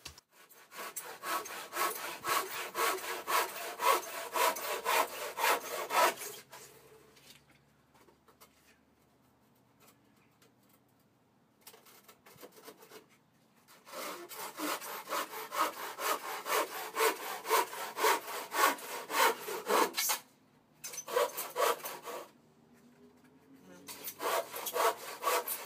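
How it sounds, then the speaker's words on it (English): A handsaw cuts through wooden gate slats in long, steady rasping strokes, close and clear, in several runs separated by quiet pauses. "Or you could just get a handsaw and cut them off in the old traditional method"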